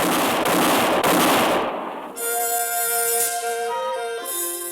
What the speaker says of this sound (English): the moonlit clearing thundered to the sound of gunfire